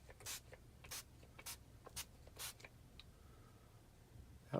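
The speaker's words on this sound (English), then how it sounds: "So I'm going to spray the area" Short bursts of spray mist over model railroad scenery before grass is applied, about half a dozen quick hissing puffs in an uneven rhythm, close and fairly quiet, with no talking.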